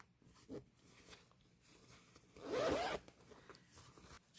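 Invisible zipper on sewn fabric pulled open in one short, close rasping stroke lasting about half a second, quiet, with faint handling noises before and after.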